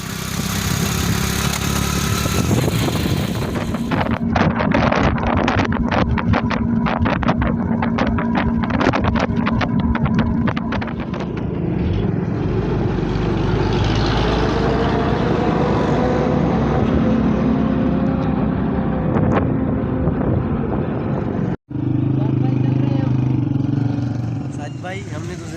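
A motorcycle carrying riders on a road trip rumbles along with heavy wind buffeting the microphone, a loud continuous engine drone and roaring wind throughout, with a brief cutout near the end and people talking over it.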